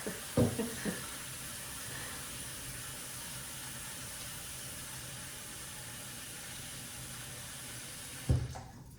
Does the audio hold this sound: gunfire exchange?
no